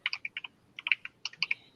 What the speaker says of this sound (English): Why you type so hard?